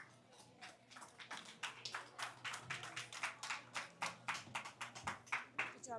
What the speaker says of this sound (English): Let's give this young man a nice round of applause.